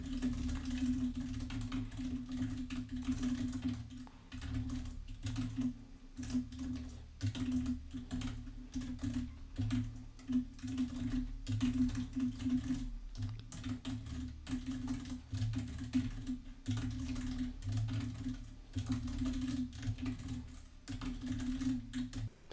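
Steady, continuous clatter of a computer keyboard as JavaScript code is typed, close and fairly loud with an unbroken rhythm of keystrokes and a constant low hum underneath.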